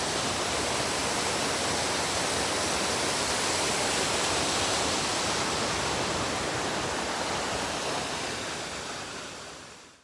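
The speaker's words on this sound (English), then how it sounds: "Sulphur Creek Falls is a two-tiered waterfall." Sulphur Creek Falls, a two-tiered waterfall with drops of over 100 feet, roars as a dense, steady broadband rush close by, unbroken for the whole stretch before fading slightly at the very end.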